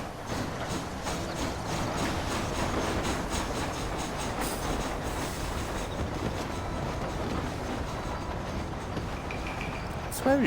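Continuous rumbling clatter of a moving train in the Western game Red Dead Redemption, dense and steady with rhythmic wheel clicks and a faint squeal near the end, under occasional talk.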